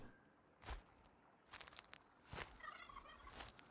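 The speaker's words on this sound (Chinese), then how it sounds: "听到火鸡的声音了" A turkey gobbles in the horror video game Uktena 64. Several short, rattling gobble bursts come at irregular intervals over a quiet background, fairly faint and with no talking.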